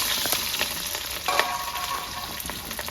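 Chopped onion frying with small cardamom, cloves and cinnamon in a pan, a dense close sizzle with crackling pops and a few stirring scrapes throughout.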